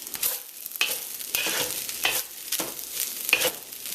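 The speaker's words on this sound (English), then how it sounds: "This is the last step here, is to add that chopped up scallion, and I'm going to give that a stir." Shrimp fried rice with chopped scallion being stirred in a hot pan, soft sizzling under repeated sweeping scrapes of a utensil in an uneven rhythm, close and moderately loud, no voices.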